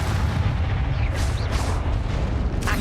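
A Confringo fire-blast spell in Hogwarts Legacy makes a dense, continuous booming rumble with crackling bursts and swelling whooshes on top, loud and close for nearly three seconds.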